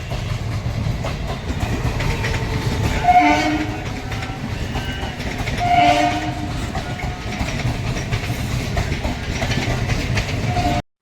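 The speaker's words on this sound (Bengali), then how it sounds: "তো ট্রেনটা আসছে।" A local train pulls into Barasat Junction with a loud, continuous rumble and clatter of wheels on rails, and two horn blasts sound partway through.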